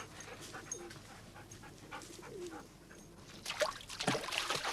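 Dog at La Madrague, breathing in a steady rhythm of quick, soft pants close to the microphone, with brief lapping or trickling sounds toward the end.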